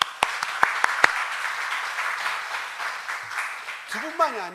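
A congregation at a Wednesday church worship service breaks into applause, starting with a few sharp individual claps that swell into a steady round of clapping. A voice speaks briefly as it fades.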